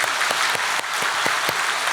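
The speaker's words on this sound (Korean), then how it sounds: "우리 예수님께 감사 박수 올려드리겠습니다." A congregation claps during a Sunday worship service at a Full Gospel church in Daegu, with a dense burst of hand claps and a few sharper individual claps ringing through the hall.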